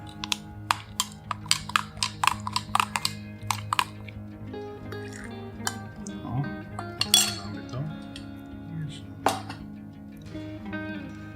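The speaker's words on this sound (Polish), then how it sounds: "Mieszamy tą żelatynkę." A spoon clinks repeatedly against a dish while gelatin is stirred, quick light taps in bursts early on, then softer scraping and occasional clinks, with a voice talking over it.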